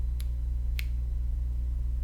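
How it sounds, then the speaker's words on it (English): Two crisp finger snaps, spaced just over half a second apart, over a steady low electrical hum in a quiet room. "I'm snapping my fingers"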